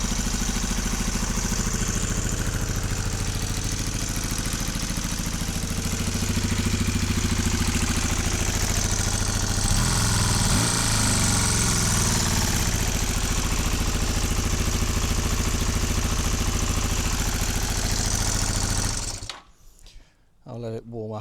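A freshly rebuilt engine idles steadily just after starting, a constant close mechanical drone running until it cuts off near the end, with a voice speaking over it.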